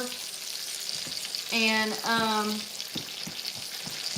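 Steak fries in a pan with a steady crackling sizzle and frequent sharp pops and spits. A short spoken word cuts through partway, and a fainter tonal sound rises briefly in the middle.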